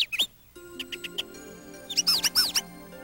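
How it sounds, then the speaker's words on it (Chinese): Small cartoon birds chirp from a nest on a house roof, with quick high squeaky tweets in short bursts, a few single chirps and then a busier flurry, over a soft musical background. "小鸟的叫声好好听哦"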